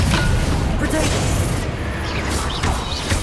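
An Expelliarmus spell is cast in the Hogwarts Legacy video game, a loud, dense, rumbling magical blast that holds steady for a few seconds, with a voice over it.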